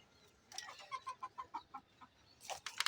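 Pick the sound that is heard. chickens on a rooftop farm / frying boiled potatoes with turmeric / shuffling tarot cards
chickens on a rooftop farm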